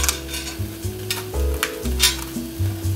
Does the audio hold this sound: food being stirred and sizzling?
yes